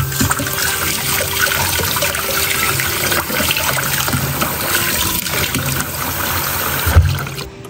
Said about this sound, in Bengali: এই যে হাতটা একটু ধুয়ে নিই।